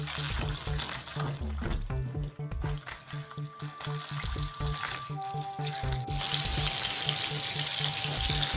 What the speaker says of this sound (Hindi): लेग पीस हमारे देखिए कितनी खूबसूरती से ये फ्राई हो रहे हैं